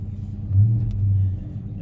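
A 2023 Dodge Challenger R/T Shaker with a six-speed idles after start-up, a deep, steady low rumble that swells briefly midway, close and loud with no talk over it.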